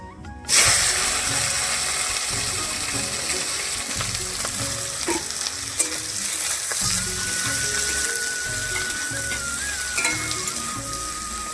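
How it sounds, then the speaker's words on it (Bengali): Chopped onions hit a hot wok and fry in a loud, steady sizzle that fills the whole stretch, with scattered clinks and scraping of a utensil against the pan. "এখন কড়াইটা গরম হয়ে গেছে, বসিয়ে দেবো এখন, তারপর মাটনটা দেবো"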